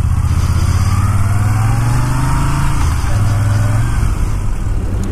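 A motorcycle pulls away on a hill. Its engine chugs loudly and close by from idle, then revs up steadily as the bike moves off, with no talking over it.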